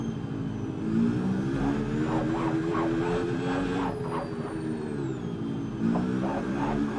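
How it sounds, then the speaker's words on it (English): An F1 car in the F1 26 game, racing in Japan, does burnouts with a high engine that revs up and down repeatedly, loud and continuous, with rising and falling pitch sweeps. "I'm going to do 2 or 3 burnouts here."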